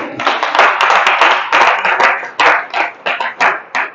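Church congregation clapping in praise, a loud close burst of many hands that thins into several separate claps near the end.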